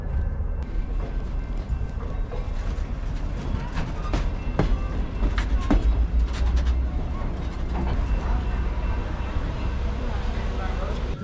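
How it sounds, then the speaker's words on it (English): Rail Runner commuter train backing slowly into a station platform, a steady low rumble with scattered metallic clicks and squeals, heard amid people talking in the background. "Our train's going to be backing in here at the platform"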